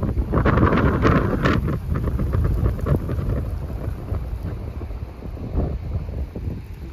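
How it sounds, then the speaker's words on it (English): Strong wind buffets the microphone with a heavy, roaring rumble, gusting harder at first and then easing slightly, with no voices. "Very windy."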